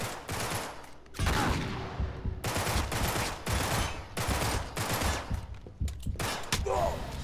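Repeated shotgun blasts from a boss fight in Uncharted 3: Drake's Deception, loud and close, firing in a steady run of about eight heavy broadband bursts with brief gaps between them.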